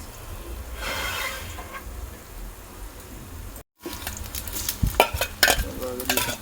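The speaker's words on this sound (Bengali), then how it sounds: "আমাদের চলতেছে সবজি খিচুড়ি রান্না।" Vegetable khichuri cooking in a pot over a coal fire in a bucket, with steady sizzling and bubbling, a brief dropout midway, then louder clattering stirring sounds.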